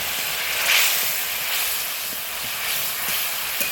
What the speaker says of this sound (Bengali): তেলটা ফুটে গেছে, মাছগুলো ছেড়ে দিই।